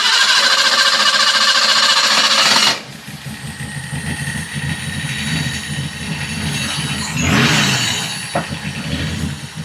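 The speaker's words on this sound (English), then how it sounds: "So we can get it idle up and run, but only if we pressurize the fuel rail with a little bit of fuel." A 1980 BMW 528i E12 engine, able to run only with its fuel rail pressurized by hand, comes on after a loud opening noise, then settles into a steady low, rumbling idle.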